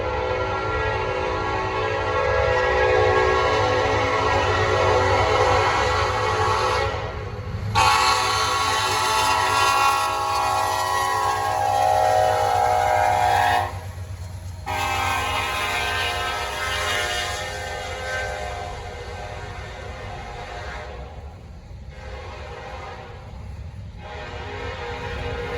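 A Norfolk Southern freight train rolls past with its horn sounding in long, loud blasts that stack into rich harmonic tones, over a steady low rumble of rail cars, with brief gaps between the blasts and a gradual fade near the end.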